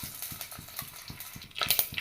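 Mustard seeds fry in coconut oil in a pan, making close, quick crackling pulses in a rapid irregular rhythm that grow brighter toward the end, with no talk.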